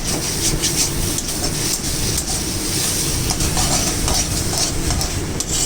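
Kochu greens cooking with ghee, cashews and raisins are stirred in a pan, giving a loud continuous sizzle with rhythmic scraping of a spoon against the pan, close and steady with no talk.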